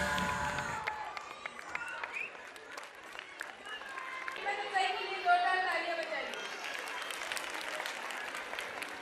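Audience applause at a school annual gathering, steady clapping from a crowd that keeps going under scattered chatter and a voice speaking, with cheering rising midway.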